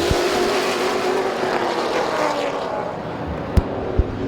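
Race cars roar together through an eight-lap heat race at Midvale Speedway, a loud sustained engine drone that swells and fades as the pack passes, with a couple of sharp knocks near the end.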